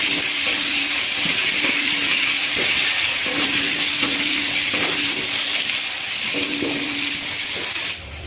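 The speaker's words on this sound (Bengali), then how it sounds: "আলু আর বেগুনটা ভালো করে ভেজে নেব" Potatoes and brinjal frying in a pan, a loud continuous sizzle with intermittent stirring scrapes and clatters throughout, heard up close with no talking.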